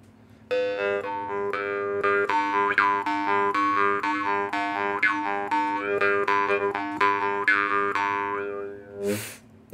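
A morchang jaw harp, from the Ghorka and Rekha models, is plucked in a steady, bright twanging rhythm with a ringing, buzzy tone for about nine seconds, then a short noisy burst at the end.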